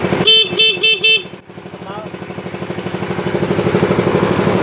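A Yamaha Mio Smile motorcycle horn gives four short honks in a quick row near the microphone, followed by a pause and then a rising, steady engine putter as the bike runs.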